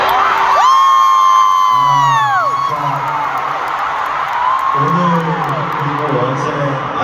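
A large concert audience roars and cheers at a show, loud sustained crowd noise with whoops and shouts throughout, while a voice speaks over it in stretches.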